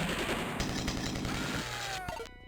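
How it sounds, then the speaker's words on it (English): Rapid automatic gunfire in the video game Star Wars: Dark Forces rattles continuously in a dense, steady burst, then cuts off abruptly with a short electronic tail. "the sound effects with the gunfire is nice"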